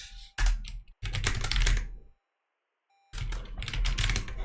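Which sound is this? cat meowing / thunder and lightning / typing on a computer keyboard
typing on a computer keyboard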